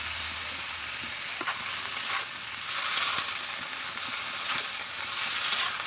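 Banana stem curry stirred in a pan with turmeric and salt, a soft steady frying sizzle with intermittent scraping strokes of a spatula, close and fairly quiet, without speech.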